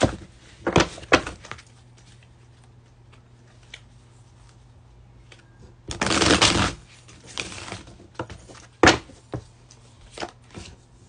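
An oracle card deck being shuffled by hand, heard as a few short riffling bursts separated by quiet stretches, with the longest burst about midway through.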